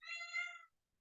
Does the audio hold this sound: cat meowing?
yes